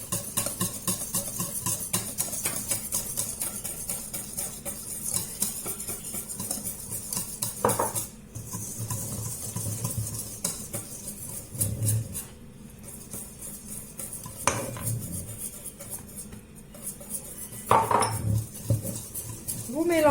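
Brioche dough with flour is mixed in a bowl, with continuous close clinking and scraping of a utensil against the bowl, a few sharper knocks and brief pauses, and some faint talk.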